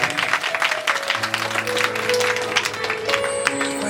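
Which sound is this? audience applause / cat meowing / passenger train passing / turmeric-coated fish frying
audience applause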